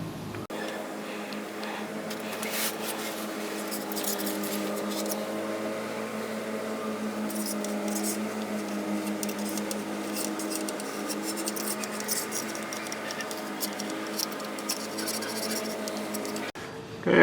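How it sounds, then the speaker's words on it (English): A razor blade scrapes old gasket material off an F150 differential housing, a steady close scratching with repeated short strokes over a faint background hum. "we'll take a razor blade and scrape the old gasket material off"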